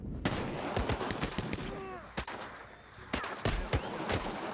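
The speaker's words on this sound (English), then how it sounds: "Shoot him, Sanek!" Video game gunfire from a Russian rebel resistance shooter, with repeated loud shots in an irregular burst, close and punchy, some ringing tails between them.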